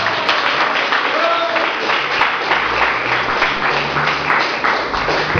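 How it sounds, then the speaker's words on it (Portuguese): A church congregation applauds during a worship service, steady loud clapping from many hands filling the room, with a voice speaking over it. "aplauda o Senhor."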